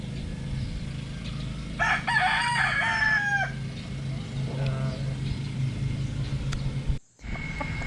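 A pet rooster crows once nearby in a long, rising and falling call after a bath, with softer hen clucks and a steady outdoor hum before and after.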